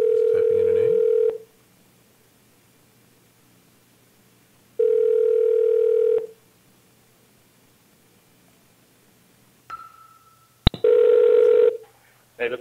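An outgoing call placed through the Google Voice desktop application rings back in long, steady tone bursts separated by silences, with a brief click and a short connection tone near the end.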